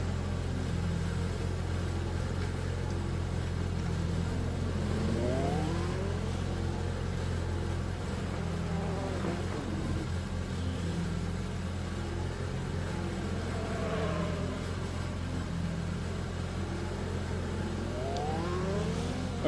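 Race cars in a Le Mans racing video game drone and rev steadily, engine pitches sweeping upward as they accelerate, under a constant low hum with no talk.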